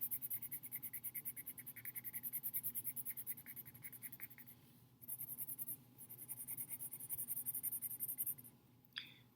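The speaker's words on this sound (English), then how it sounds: "So I'm going to shade in, using a colored pencil," Colored pencil shading across paper while working a fractions area model, a close, steady rhythmic scratching of repeated strokes that pauses briefly midway, then resumes; no talking over it.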